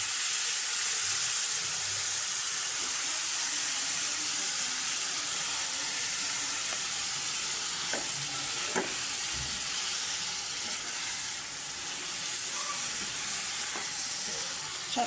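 Beef from the Eid sacrifice sizzles in a hot pan, a steady loud hiss with occasional stirring scrapes, no one speaking.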